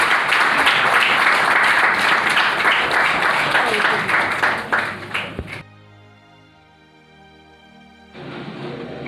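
Audience applause at a political general assembly, dense loud clapping for about five seconds that breaks off abruptly into near silence, followed by a quieter background of room noise.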